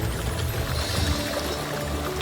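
Water flows and splashes through the fountains, spouts and stone-edged ponds of a Balinese water palace garden, a steady, close, continuous rushing with no voices.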